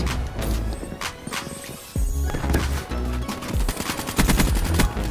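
A KN-44 assault rifle fires in Black Ops 3, with loud rapid bursts of automatic gunfire repeating close up, broken by brief pauses and mixed with in-game impact and effect sounds.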